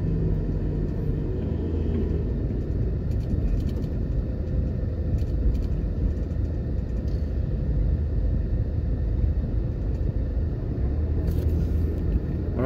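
A car drives along a road near Allerdyce, Jamaica, with a steady, loud low rumble of engine and tyres heard from inside the cabin throughout, with no talking.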